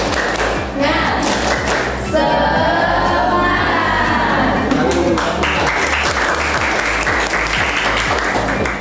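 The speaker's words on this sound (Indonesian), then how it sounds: "Coba tepuk semangat." A group claps together in a fast, steady rhythm, with bursts of children's voices cheering partway through.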